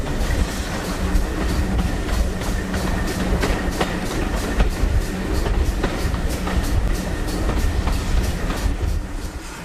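A South Devon Railway heritage train runs along the line beside the River Dart, with steady clickety-clack of wheels over rail joints under a continuous loud rumble.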